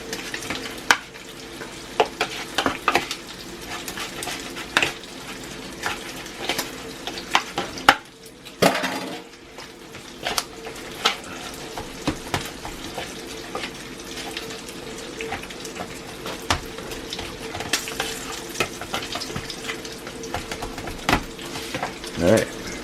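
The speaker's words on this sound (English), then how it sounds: "Give this a stir." A bacon, BBQ and beef mixture with Parmesan cheese is stirred in a pan, giving repeated close clatters and scrapes of utensil on metal over a steady low sizzle, with occasional talk.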